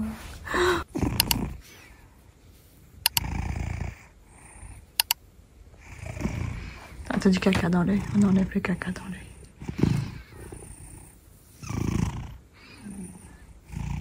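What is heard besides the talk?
cat purring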